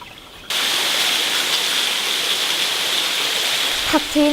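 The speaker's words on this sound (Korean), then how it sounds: "맑고 경쾌한 물소리가 가슴을 적십니다" Clear stream flowing beside a forest trail on Mudeungsan mountain, a bright, continuous rush of water starting abruptly and holding steady, with a brief voice at the very end.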